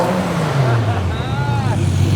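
A Toyota Supra with a single-turbo conversion running on ethanol idles with a loud, close, deep drone, its pitch sagging and then lifting slightly as the throttle is blipped, with faint voices beneath.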